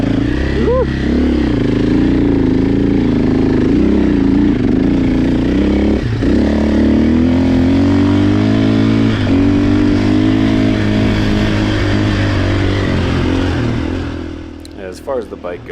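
A Husqvarna dirt bike races over whoops and washes, its engine revving loudly and close with rising and falling pitch, shifting and clattering, before fading out near the end; a voice is briefly heard over it.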